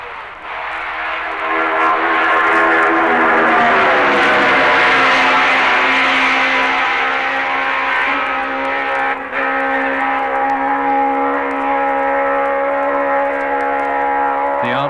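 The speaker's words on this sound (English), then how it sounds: "could Florian Camathius win on this special 4-cylinder Gilera outfit?" Racing sidecar outfit with a special four-cylinder Gilera engine at the Isle of Man TT, a loud sustained high-pitched engine howl that sweeps past close by and holds for about fifteen seconds with no talk over it.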